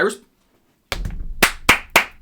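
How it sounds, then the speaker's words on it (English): After a brief voice, one person claps by hand about five times, sharp and close, in a quick, slightly uneven rhythm. "I'll give you a round of applause."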